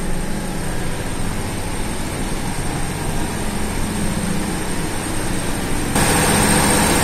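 Steady heavy machinery drone fills the engine room of SPB ABM Iljin, a continuous loud low rumble with broadband mechanical roar and a constant high whine, rising slightly in level near the end.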